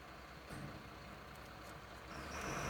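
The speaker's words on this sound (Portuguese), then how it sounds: "no fundo vai ter o caminhão fazendo o barulho dele" A garbage truck rumbles outside at a distance, a low, steady engine drone with faint hissing that swells slightly louder toward the end, heard from indoors.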